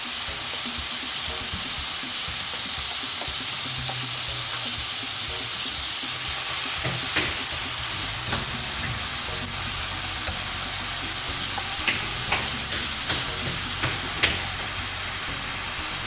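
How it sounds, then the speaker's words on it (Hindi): Marinated beef strips sizzle steadily in hot oil in a pan, a continuous close frying hiss with scattered small pops and crackles throughout. "इसके पीस डालते हैं जो मैरिनेट किए हुए थे।"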